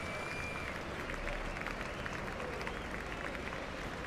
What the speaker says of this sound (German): Und das Publikum, Standing Ovations in München.